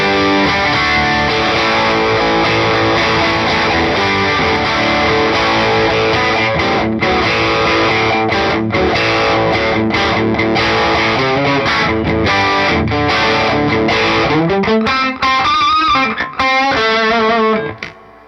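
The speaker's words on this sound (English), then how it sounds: "So we're gonna go ahead into the bridge position with some distortion." A Fender American Professional II Jazzmaster electric guitar on its bridge pickup plays loud distorted chords and riffs without a break, ending with a sustained, wavering bend as the sound fades out.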